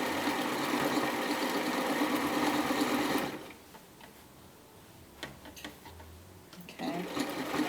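A sewing machine runs fast, stitching knit fabric for a bomber jacket from pin to pin, a loud continuous whirring that stops abruptly, followed by a quiet stretch with small handling clicks, then the motor starts up again.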